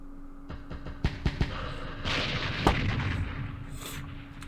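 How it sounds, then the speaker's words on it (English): Mortar fire impacts in the Vietnam war game Campaign Series Vietnam, Battle of Tan An 1968: a few sharp close blasts followed by a heavier rumbling barrage with a crack, no talk. "All the mortars are hitting us now."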